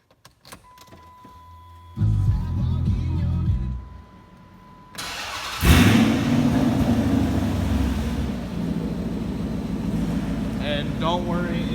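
A car with a warm Hemi engine cranks and fires up, then settles into a loud, deep, rumbling idle up close, after a short electrical whine and a quieter lull beforehand.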